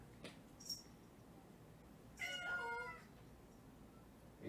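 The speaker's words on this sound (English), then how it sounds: "I can hear her meowing outside right now." A house cat named Shadow meows from outside a shut door: one drawn-out, clearly pitched meow at moderate distance, with a couple of faint clicks before it and quiet room hush around it.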